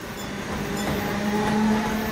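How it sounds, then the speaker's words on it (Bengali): A train pulls out after a brief stop, its steady, dense rumble growing slightly louder and then holding as it rolls away, used as a sound effect in an audio story. "কয়েক সেকেন্ড মাত্র দাঁড়িয়েই তারপরই ঝমঝম শব্দ তুলে ট্রেনটা চলে গেল।"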